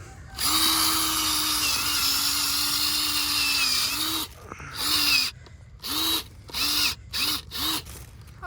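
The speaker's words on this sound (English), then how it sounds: "I have a drill with a little auger on it" A power drill fitted with a small auger, boring holes in soil, whirs steadily for several seconds, then runs in a series of short bursts with pauses between, close and loud.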